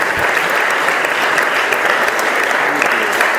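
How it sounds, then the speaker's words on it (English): Warm audience applause at a Cambridge Union debate greeting a speaker, a broad, steady wash of many hands clapping that holds at an even level throughout. "Please, warm round of applause for Ms."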